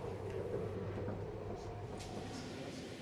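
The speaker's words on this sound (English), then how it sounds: "the first party are on the local train from Bordeaux to Arcachon" Steady low rumble and rolling hum inside a local passenger train running from Bordeaux to Arcachon, a continuous drone throughout with no talk.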